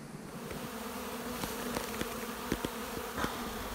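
A dense swarm of honeybees hums around a beehive holding tens of thousands of bees, a steady close drone with individual insects buzzing past louder now and then, and no talking.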